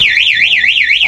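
A two-way alarm on a Honda TMX 125 motorcycle wails close by with a loud electronic siren tone sweeping rapidly up and down in a steady repeating cycle.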